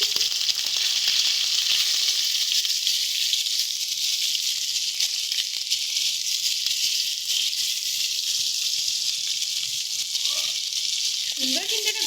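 Raw green banana sizzles in hot oil tempered with panch phoron and bay leaf, a steady close frying hiss running throughout with small crackles and a brief clink near the end.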